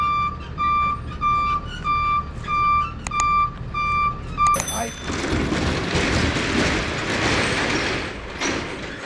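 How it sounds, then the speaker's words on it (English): A big truck backs down a driveway with steady, evenly spaced reversing beeps for about five seconds, followed by a loud rumbling engine and air-brake hiss. "there's a big truck backing down the driveway"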